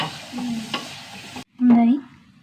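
Sliced onions sautéing in a hot pan, a soft sizzle with stirring scrapes, then a short pause before another brief burst of stirring and frying close by.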